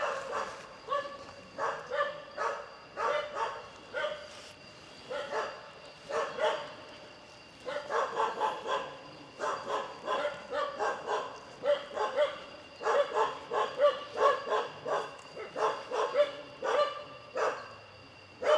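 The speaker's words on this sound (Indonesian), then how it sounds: "Mohon maaf ya kalian kalau terdengar suara lolongan anjing tuh." Caged dogs in a hidden village in a forest bark and yelp repeatedly in bursts, with some howling mixed in, continuing throughout at moderate distance.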